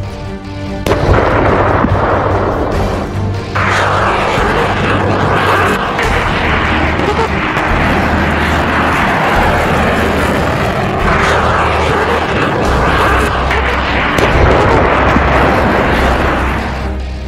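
Missile strikes and explosions in the Russia–Ukraine war come as a loud, continuous roar of engines and blasts with deep rumbling booms layered throughout, dense and sustained with no clear pauses.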